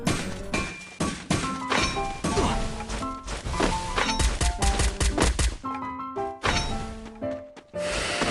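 Rapid gunshots ring out in a Free Fire battle-royale match, loud and close, firing in quick bursts and single cracks with brief pauses between volleys, set against game music and effects.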